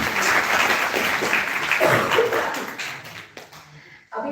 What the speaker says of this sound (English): Right, please clap for it.